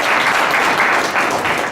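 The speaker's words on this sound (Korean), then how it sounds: "박수 부탁드릴게요" Dense, steady applause from an audience at a startup pitch forum, loud and close, a continuous wash of many hands clapping with no gaps.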